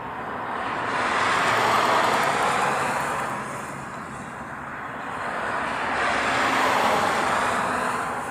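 A Southwest airliner on approach into Honolulu from LAX, a broad jet roar swelling, easing slightly and building again as it passes fairly close.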